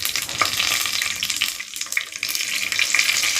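Dried chillies and fenugreek seeds crackle and sizzle in hot oil in a kadai, a steady dense frying hiss held close and loud throughout with no voices.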